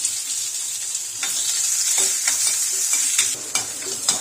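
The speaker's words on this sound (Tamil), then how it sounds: "அது கூட சேர்த்து கொஞ்சம் வெங்காயம் போட்டு நல்லா வதக்கிக்கிறோம்" Onions and green chillies sauté in hot oil after mustard seeds pop, for a cabbage dish: a bright continuous sizzle broken by repeated scraping spatula strokes against the pan.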